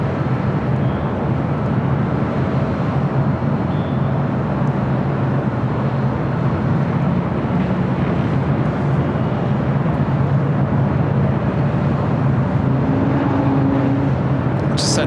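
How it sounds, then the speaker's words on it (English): Air France Boeing 777-300ER jet from Paris landing on runway 25 left at LAX, a steady loud roar of engines and rushing air held throughout, heard from some distance. "Air France flight 24 coming in from Paris, 777-300 ER, touching down on the south side and 25 left"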